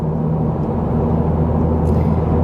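A Honda Civic Si sport sedan driving in Massachusetts rush-hour traffic, with a loud, steady engine and road drone heard from inside the cabin and no voices.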